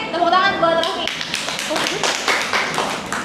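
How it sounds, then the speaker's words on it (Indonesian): Students in a classroom clap their hands together in a burst of applause that follows a brief moment of speech, the claps sharp, close and fairly dense, then continuing briefly. "tepuk tangan buat Raffi."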